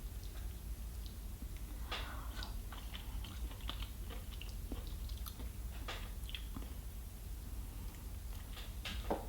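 Snow crab legs from a seafood boil are cracked and chewed up close, giving scattered crisp crunches and snaps over a steady low background hum.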